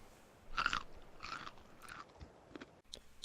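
A character eats cooked meat in ARK: Survival Evolved, making a few soft, close crunchy chewing bites in short bursts that then fade, with no talk.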